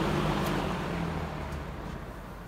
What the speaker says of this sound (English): Go back to high, and we'll do a spin down for you.